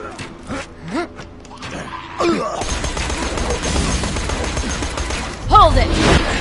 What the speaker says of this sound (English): They start shooting at you!